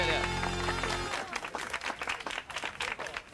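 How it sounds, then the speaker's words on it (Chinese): A studio audience on a 2000 variety show breaks into clapping after a sustained musical tone cuts off, with irregular bursts of applause continuing to the end. "好，掌声鼓励。"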